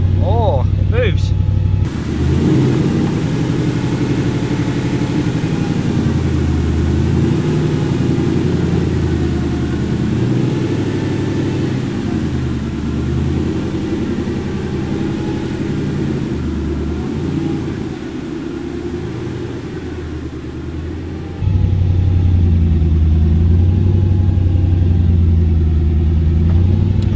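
A Ford Capri fitted with a Mercedes M113 5-litre V8 rumbles steadily at low revs as it pulls away in gear, a deep continuous engine drone that shifts in tone near the start and end.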